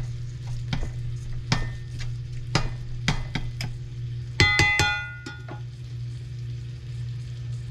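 Breakfast skillet mixture sizzling in a hot skillet, a steady loud frying hiss with scattered sharp clicks and metallic utensil clinks against the pan.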